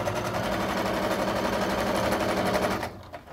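A sewing machine stitching a camera or guitar strap runs in a continuous, fast, close whir, backstitching for nearly three seconds before stopping abruptly.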